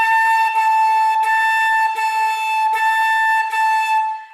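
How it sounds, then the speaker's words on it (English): A flute plays one sustained pitch split by six tongued articulations into repeated notes. The pulses are evenly spaced and grow slightly softer, close and alone. "that would sound like this on the flute"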